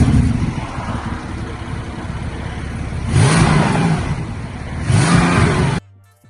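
A Porsche 992.2 GT3 Touring with a hybrid exhaust idles, then gives two sharp blips that rise and fall in pitch, loud and close before cutting off.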